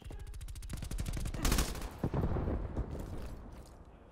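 A PPSh-41 submachine gun fires in a video game, loud rapid-fire bursts crackling at very fast rhythm, then heavier booming shots and echoing impacts as the firing trails off.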